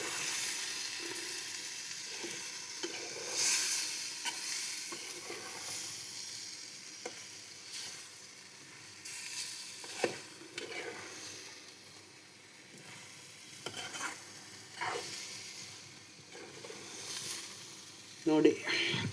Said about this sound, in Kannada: ಕೊತ್ತಂಬರಿ ಹಾಕಿ ಚೆನ್ನಾಗಿ ಮಿಕ್ಸ್ ಮಾಡಿ